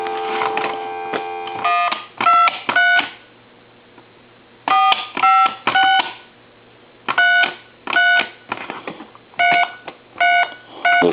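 A Coby CT-P750 speakerphone under repair sounds loud, clean DTMF dialing tones, a dense run of beeps followed by spaced groups of short two-tone bleeps over a faint mains hum.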